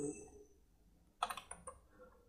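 Quick keystrokes on a computer keyboard while entering data in an Excel spreadsheet, a short burst of light clicks after a near-silent pause, close and soft.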